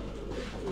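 A Sialkoti breed pigeon coos softly in a short, low, throaty burst, close by and faint.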